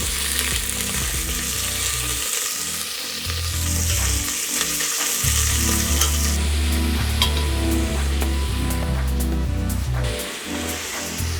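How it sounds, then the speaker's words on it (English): Pork meat sizzles and fries in a pot for tonjiru, a loud continuous crackling sizzle close up with scraping stir strokes through it, no talk. "let's cook our meat first"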